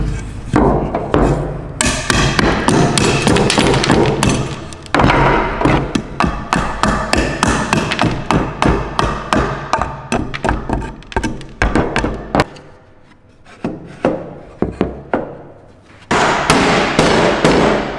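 A hammer repeatedly drives a wedge into the rail of a garage crane, making loud, sharp metallic strikes in rapid runs. The bursts are broken by a few brief pauses and go on throughout, with no talking.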